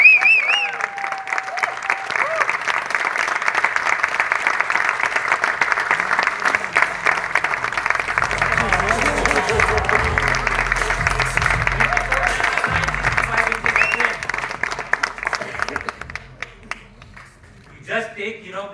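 An audience at a product launch claps in a loud, sustained round of applause that holds steady for several seconds and then fades, with voices talking in the room underneath.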